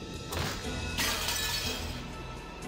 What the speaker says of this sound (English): The glass smashed with a violent sound,